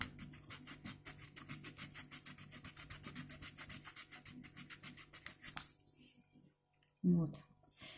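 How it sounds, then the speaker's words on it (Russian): Sandpaper rubbed over the back of a small wooden pendant ornament: a steady, rhythmic back-and-forth scratching, close up, lasting several seconds before stopping, followed by a brief knock. "Проходим шкуркой сзади."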